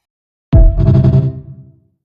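A single soft brush-drum hit built from sampled sounds gives a short swishy attack with a reverb tail that fades out after about a second, alone and close.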